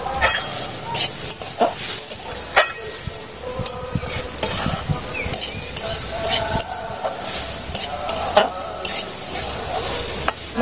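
Rice frying in hot ghee in a brass pot for rice payesh, stirred steadily: a continuous close sizzle with repeated scraping and clinking of the spoon against the metal, no voices.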